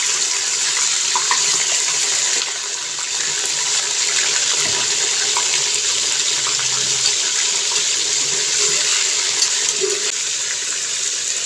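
Chicken sizzling in hot ghee in a karahi for Peshawari Shinwari chicken karahi, a loud steady hiss that runs unbroken throughout with no talking.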